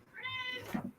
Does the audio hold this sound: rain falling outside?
no